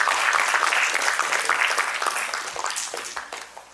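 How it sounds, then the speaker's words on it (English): An audience applauds a speaker, Ajeet, taking the stage at a tech talk on AI agents and developers; dense, sustained clapping fills the room and slowly tapers off toward the end. "please give a huge round of applause for Ajeet on the stage"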